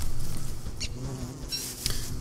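Bees buzz in the video game Don't Starve Together, a faint, wavering insect drone with a couple of brief louder swells, heard alone without speech.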